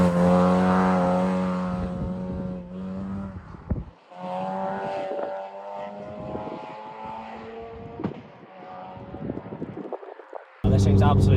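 A supercharged Renault Clio RS engine revs and accelerates on a mountain road, loud rising and falling harmonic whine through several gear changes, with brief lifts and a sharp burst of revs near the end.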